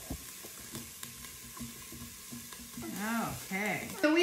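Onions sauté in a pan for quinoa burrito bowls, stirred by a child, with a steady sizzle and scraping stirs; a young voice chimes in over the cooking toward the end.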